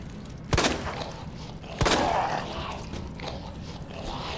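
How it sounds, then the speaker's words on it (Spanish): Two loud gunshots from the Resident Evil 2 Remake game, about a second apart, each a sharp crack with a short ringing tail over low game ambience. "Menudo balazo estás comiendo en toda la cabeza"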